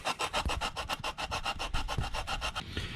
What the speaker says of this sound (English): Just took a couple minutes of sanding